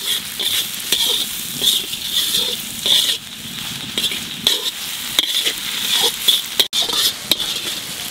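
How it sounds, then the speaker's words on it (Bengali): Mixed vegetables with bell pepper stir-fried in a pan while cooking egg fried rice, a steady close sizzle with repeated scraping strokes of a spatula and occasional light clinks, no voices. "এবার বাকি সবজিগুলো দিয়ে দেবো। এটা মোটামুটি 2 মিনিট মতো ভাজবো।"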